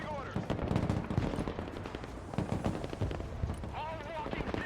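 Dense gunfire in the Broken Arrow combat game, rapid machine-gun bursts and scattered shots crackling close by without a break, with a voice talking over the shooting.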